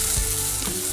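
Curry powder being stirred into a hot pan, a loud, dense sizzle with a brief scrape of the spoon, close up and continuous for a short moment with no talk.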